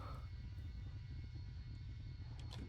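A Roblox game airplane coming in too fast to land, heard as a low, steady engine rumble with a constant roar and a few faint high blips near the end.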